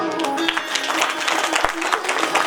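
Listeners at a Krishna katha gathering break into continuous clapping to welcome Lord Krishna, many hands patting in a lively crowd wash while a speaker's voice carries on over it.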